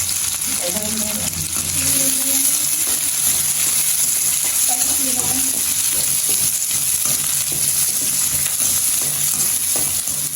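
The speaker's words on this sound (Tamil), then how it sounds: "நல்லபடியாக பொரிச்செடுக்கணும்" Small onions fry in hot oil, giving a loud, steady sizzle throughout, with occasional stirring and clinks of a utensil against the pan.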